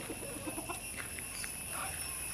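Chickens in a yard making a quick run of soft, low clucks, then a few scattered calls over a steady background hum.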